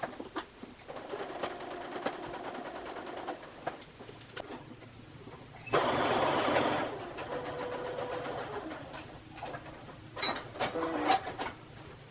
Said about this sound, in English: I'm going to take it to the sewing machine and going to go ahead and stitch